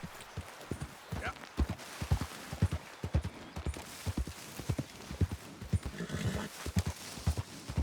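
Horse hooves clip-clopping in a steady, near rhythm through Red Dead Redemption 2 gameplay, with a horse neighing partway through over a faint background bed.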